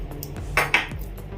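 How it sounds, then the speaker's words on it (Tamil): Rava kesari with sugar and ghee stirred in a pan gives a few light metal scrapes and clinks, two louder knocks close together, over a quiet steady background with no talk. "சீனி சேர்த்ததுக்கு அப்புறமா நல்லா கிளறிடலாம். இது கிளறும் போதே நம்ம எடுத்து வச்சிருக்க நெய்யிலேருந்து கொஞ்சமா சேர்த்துக்கலாம்."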